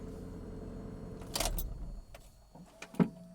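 A 1995 Mazda Miata NA with a manual transmission and a newly replaced starter runs quietly, a low engine rumble for about two seconds that fades under faint clicks and a sharp knock.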